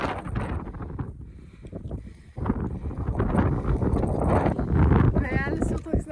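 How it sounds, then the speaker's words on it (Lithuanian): Wind buffets the microphone on a mountain hike in New Zealand, a low, rough rumble that grows stronger midway while a person talks over it. "Vėjelis jau toks neblogas"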